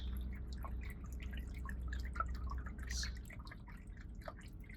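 Water trickles and drips steadily from a small pet water fountain, with a soft low hum underneath and scattered droplet splashes throughout.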